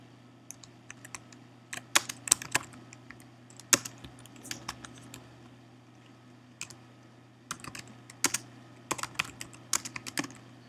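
Keys clatter on a computer keyboard in bursts of quick, close clicks with short pauses between runs of typing, over a steady low hum and no talk.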